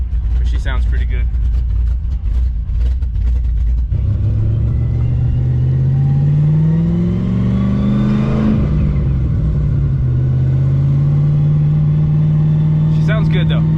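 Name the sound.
Nissan 300ZX Z32 engine with GTO mufflers revving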